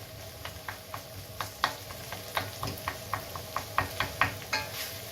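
A frying pan sizzles steadily while pasta with broccoli cooks, punctuated by a regular series of soft clinks and stirring taps at close range.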